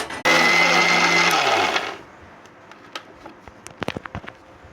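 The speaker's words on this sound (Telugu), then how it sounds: "ఒకసారి మిక్సీ పడతాను" A kitchen mixer grinder runs at full speed with a loud, steady whir while grinding sesame seeds, garlic and cumin, then winds down after about two seconds and leaves only scattered light clinks and taps.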